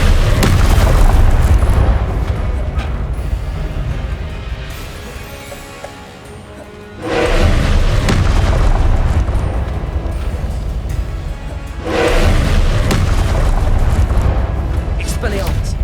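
Confringo explosion spell booms in a Harry Potter video game, with loud rumbling blasts that come in three big waves and fade between them, over a dense wash of game noise.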